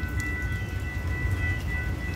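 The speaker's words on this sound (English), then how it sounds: "I believe it's a train from White Line" A train rumbles past steadily and close, with a continuous low roar of rolling wheels and faint high tonal whines from the rails, no talking.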